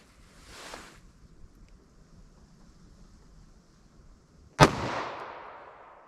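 A 9mm pistol fired through a 3.2-inch barrel at a chronograph outdoors: one sharp, loud report that tails off with a brief echo, following a fainter earlier pop and quiet room tone.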